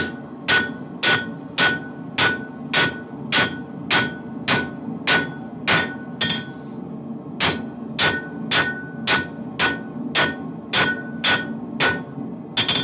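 Regular ringing hammer strikes on metal, about two per second, loud and close, with a short pause midway before the steady blows resume.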